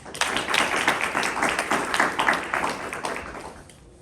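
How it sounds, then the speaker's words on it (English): Audience applause at an academic lecture at a Catholic university welcomes the guest speaker, a steady, fairly dense burst of clapping that holds for about four seconds before thinning out at the end. "let's welcome him with a round of applause"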